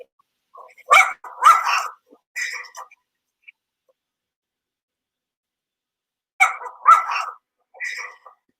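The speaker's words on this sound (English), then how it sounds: "Dogs are barking, birds are chirping." Dogs barking outdoors on a morning walk in two separate bursts of several sharp barks each, moderately close, with quiet stretches between.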